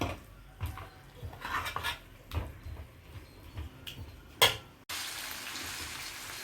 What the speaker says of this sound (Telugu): కారం వేసాం కదా పచ్చికారం అది కూడా వేగుతుంది అనమాట